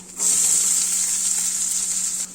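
Garlic and onion dropped into hot oil for a banana stem stir-fry, a loud, sudden hiss that holds steady and close for about two seconds before cutting off.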